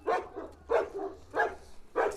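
A Kangal dog barks four times in an even rhythm, each deep bark loud and close, with no talk over it.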